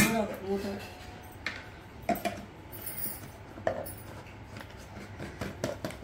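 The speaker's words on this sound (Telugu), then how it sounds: "మూత పెట్టే బామ్మ" A metal lid set onto a cooking pot of chicken pickle masala gives a few light clanks and clinks, while voices talk quietly in the background.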